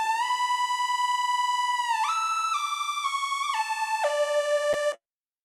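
Synthesizer main patch plays a sustained bright lead melody alone, stepping through a few held notes with smooth pitch glides between them, steady and fairly loud, ending abruptly.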